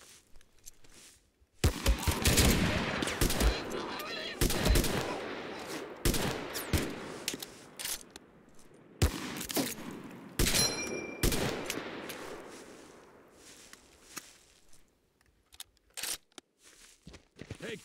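Gunfire in the Mud and Blood video game: bursts of automatic fire and single shots come in irregular volleys, close and loud, separated by short quiet gaps, with footsteps and crunches between them.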